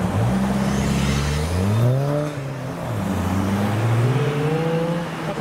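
Car engine revving hard at a drive-through car show where a Fiesta ST and a 350Z pass, rising and falling in pitch as it accelerates close by, then a second surge follows, loud and without talk.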